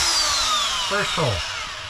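A power drill starts a hole in a camper van build, a falling motor whine joined by two brief rising bursts as the bit bites, fairly close.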